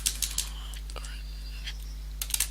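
Scattered keystrokes on a computer keyboard while code is entered, a few quiet clicks near the start and a quick cluster at the end over a steady low hum.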